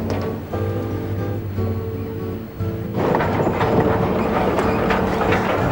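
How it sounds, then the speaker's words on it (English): Steam train running on its tracks, a steady low rumble with a whining hum over the first part, then a louder, broader rushing roar of rolling wheels and creaking cars, continuous and close. "the clickety-clack of the tracks, the creaking of the cars"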